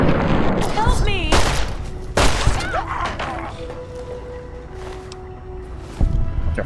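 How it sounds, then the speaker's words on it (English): In a Fallout video game, frag grenades go off in several heavy booming blasts spaced a second or more apart, loud and close, amid combat noise and shouting voices. "Bunch of frag grenades."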